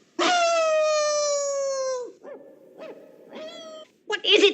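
A cartoon dog in the animated film One Hundred and One Dalmatians gives a long sustained howl, followed by shorter yelps and another howl, with a brief voice at the end.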